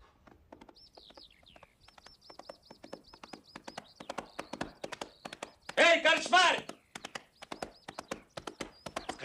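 Horse hooves clip-clop in a quick, steady rhythm, with birds chirping faintly and a brief burst of voices partway through.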